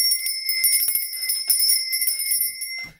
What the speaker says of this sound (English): Now, where is my bell?